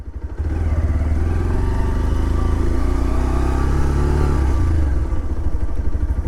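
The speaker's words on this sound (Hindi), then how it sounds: "बहुत ही स्मूथ है इंजन इस बाइक की।" Bajaj Pulsar 125 Neon motorcycle engine while riding, a close, loud, steady low thrum with a fast pulsing beat that holds even and eases slightly near the end.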